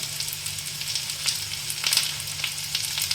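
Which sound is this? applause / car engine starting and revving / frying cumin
frying cumin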